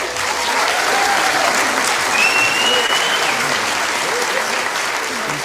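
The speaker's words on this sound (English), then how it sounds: "give him a clap for that" Steady audience applause fills the whole stretch, a dense, even wash of clapping from a podcast-class crowd with no pauses or voices standing out.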